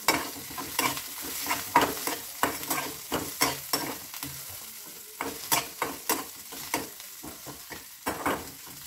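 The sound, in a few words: garlic frying and being stirred in a pan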